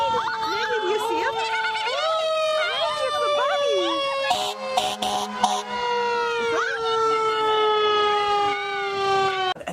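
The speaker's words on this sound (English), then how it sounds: "there's a fire truck with its sirens on 10 feet, 15 feet away from you, honking its horn" A fire truck wails close by at an outdoor Easter egg hunt. Its siren rises and falls continuously, short honks of its horn break in midway, and people talk throughout.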